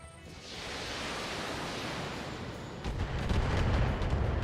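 Missile salvo fired and exploding in the BattleTech mech video game: a swelling, roaring wash of blast noise that builds into heavier rumbling impacts, loud and continuous with no voices.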